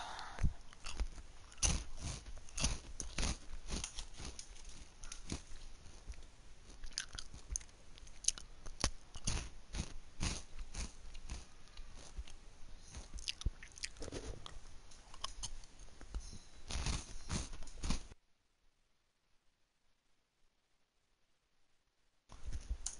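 Close, crisp chewing and biting of food in an ASMR style, steady crunchy munching for about eighteen seconds, then near silence before a brief return of sound at the end.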